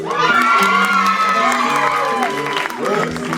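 An audience at a poetry slam claps and cheers, with excited shouting and whoops layered over the clapping, loud and crowded from start to finish.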